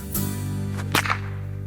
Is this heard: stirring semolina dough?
no